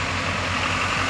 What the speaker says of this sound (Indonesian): Truknya sudah datang ya kawan-kawan.